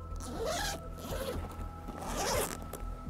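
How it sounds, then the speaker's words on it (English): Two-way zip on the front of a JRC Cocoon fishing carryall bag being opened, close and fairly quiet, in several drawn-out rasping pulls. "We've got a two-way zip on the front here."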